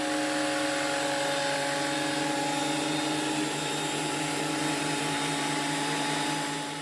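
A power planer shaves a solid wood shelf board with a steady, loud whining drone of the blades. It runs continuously at close range for the whole stretch, with no speech.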